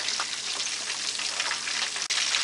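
Chicken pieces frying in oil over low to medium heat give a steady, dense sizzle with faint crackles throughout.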